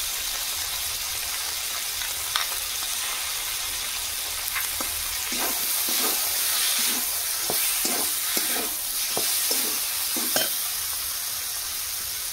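Mustard paste is stirred into a cooking masala with Malabar spinach and shrimp, giving a steady frying hiss marked by a series of irregular spatula scrapes and taps, thickest in the middle stretch.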